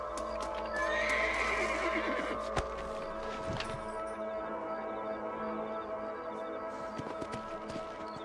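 Horses whinny in Red Dead Redemption, one drawn-out neigh early on, with hooves clopping amid steady outdoor game ambience at moderate loudness.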